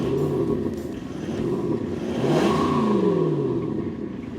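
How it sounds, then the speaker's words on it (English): Land Cruiser 300 Series with a V6 twin turbo diesel revving up hard, the engine note climbing and falling in a sustained sweep, loud and close with no one talking. "I'm gonna rev up my V8 supercar here"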